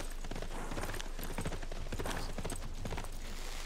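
Many horses' hooves clip-clop in a rapid, continuous patter as horse archer units move in the strategy game Civilization 6. The hoofbeats are faint and dense, with no voices.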